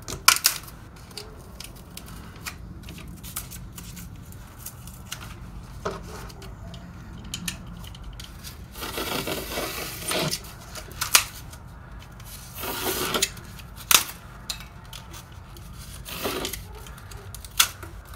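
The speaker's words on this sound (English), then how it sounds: "I'll just trim it at this little line that's here." Material being trimmed to size for a shipping crate for artwork, with a series of sharp cutting snips and clicks, some louder bursts of rubbing and scraping, close by and with no talking.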